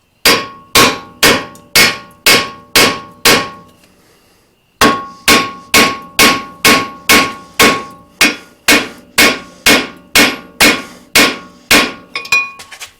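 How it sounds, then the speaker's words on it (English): Hammer blows strike a Mazda 3 front brake rotor in a steady, loud series of sharp metallic clangs, with a brief pause before the rhythmic hammering resumes. "we don't want to actually hit the braking surface, and we don't want to hit the wheel studs"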